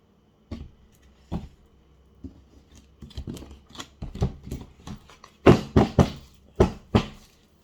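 Cards are shuffled and snapped in a series of crisp, irregular clacks and riffles, growing louder toward the end, with no talking.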